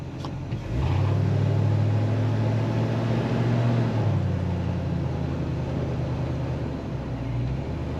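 A 1949 Chevrolet 3100 pickup truck drives and accelerates, its engine rising into a loud, steady low rumble soon after the start and holding close and strong throughout, with no talking over it.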